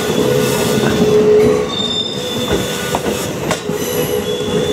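A train rolls out of a train wash in Japan, its wheels squealing and cars rumbling steadily past at close range, with sharp metallic screeches rising over a continuous heavy rail noise.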